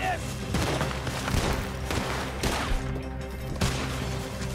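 Shotgun blasts and gunfire ring out in a Red Dead Redemption 2 shootout, several loud booming shots spaced across the stretch over a dense game soundscape.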